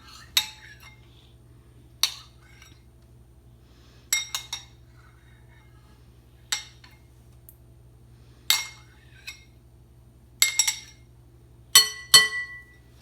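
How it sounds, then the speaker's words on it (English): A utensil scrapes flour and Greek yogurt into a bowl, giving about ten sharp, separate clinks against the bowl over a quiet room with a low hum. "If you hold it over the bowl and just scrape it all in."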